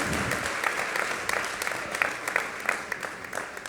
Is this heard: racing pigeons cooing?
no